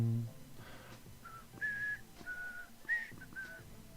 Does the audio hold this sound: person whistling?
yes